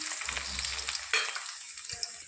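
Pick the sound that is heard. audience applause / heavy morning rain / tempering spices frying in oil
tempering spices frying in oil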